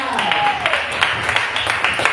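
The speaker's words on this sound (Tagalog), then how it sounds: "Palakas ang palakpak." A church congregation claps together, a brief burst of scattered hand claps against a room voice that carries over them.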